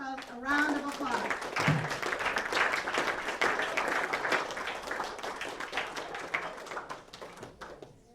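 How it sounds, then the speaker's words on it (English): An audience at an awards dinner claps together after a brief voice at the start, a loud, busy burst of many hands that holds steady and then thins out toward the end. "Please help me give all of these clubs a round of applause."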